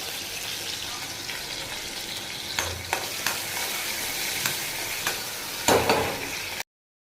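Garlic dropped into frying turmeric, masala and tamarind, giving a loud continuous sizzle with occasional utensil knocks and scrapes, stopping abruptly at the end.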